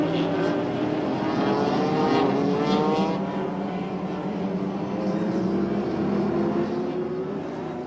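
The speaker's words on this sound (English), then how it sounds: "the 20-car field finally gets the green light" Field of twenty sports prototype race cars from the 1999 SportsRacing World Cup roaring off at the start at Kyalami, a dense, loud, sustained wall of overlapping engine drone with rising and falling pitch throughout.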